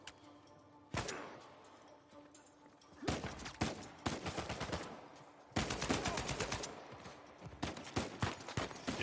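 Bursts of gunfire from the video game Uncharted 4 come in sharp volleys: a lone shot early on, then rapid automatic strings that grow denser and louder, broken by short pauses.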